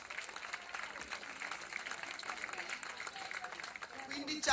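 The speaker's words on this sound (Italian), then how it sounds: "Facciamo un applauso." Audience applause at a student music academy concert: dense, steady clapping from a crowd in a hall, moderately loud and continuous, swelling slightly toward the end.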